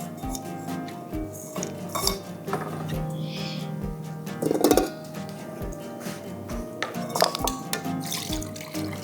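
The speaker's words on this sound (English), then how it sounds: "we will strain the butter fat from the buttermilk" Churned butter fat being strained from buttermilk in a kitchen gives soft liquid drips and splashes with light clinks of a bowl and utensils, fairly quiet and close.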